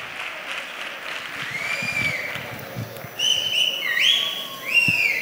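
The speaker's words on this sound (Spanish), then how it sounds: "Fuerte el aplauso para la reina del Carnaval 2023." A crowd at a carnival ceremony for the carnival queen applauds continuously, with whistles rising over the clapping and swelling louder toward the end.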